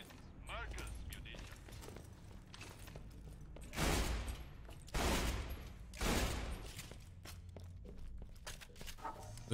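Shotgun fire in the video game Borderlands 2, three loud broadband blasts about a second apart, set among game noise and a voice talking over the action.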